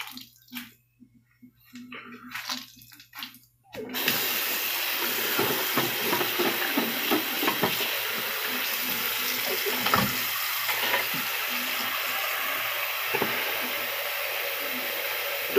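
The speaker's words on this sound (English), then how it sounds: "Do a little rinsing real quick here." Tap water runs steadily while sharpening stones are rinsed, a continuous close splashing rush that starts abruptly after a few seconds of quiet handling noises and carries on with small clatters and splashes.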